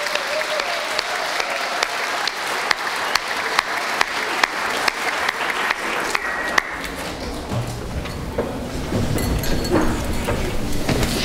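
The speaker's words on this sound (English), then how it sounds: "So one more round of applause for our all-state band members." A school concert band audience claps for its all-state band members, with many individual sharp claps standing out in a steady round before the applause thins and crowd noise and movement take over near the end.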